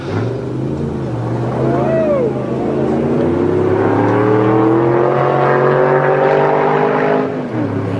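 Race car engine climbing the Pikes Peak hill climb course, loud and continuous with a steady drone that rises in pitch as it accelerates and shifts, one sustained pass close by.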